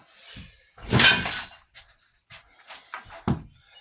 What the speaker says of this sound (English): Thank God that's already broken glass.